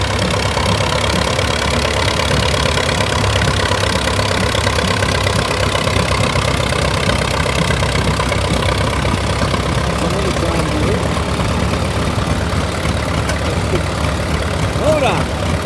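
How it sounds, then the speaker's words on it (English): A tractor engine idles steadily at the 2023 Columbus County Fair parade with a low, continuous rumble, loud and close, with voices and crowd noise faintly mixed in. "Take a look at this tractor right here."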